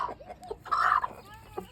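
A mother hen with five little chicks clucks close by in short bursts, with one louder, drawn-out call in the middle and soft peeping around it.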